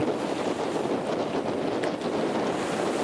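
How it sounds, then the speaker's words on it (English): Squall wind rushes steadily past a cruising yacht under sail at sea near the equator, a constant loud roar with buffeting on the microphone and water hiss beneath. "the squalls have brought along a wind and we are actually sailing"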